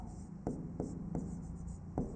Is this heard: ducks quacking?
no